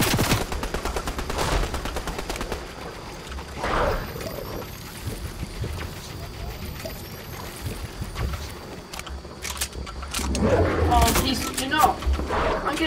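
Repeated bursts of gunfire in the game Fortnite crack sharply throughout, with clusters of rapid shots at the start and end, while a player talks over the action.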